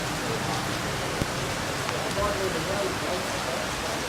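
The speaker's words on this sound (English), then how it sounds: "We're pretty much waiting for the rain to stop." Steady rain falls on the old North Road near Wiseman's Ferry in Australia, a dense, even hiss of drops on surfaces with a few louder patters, continuous and close, with faint voices beneath it.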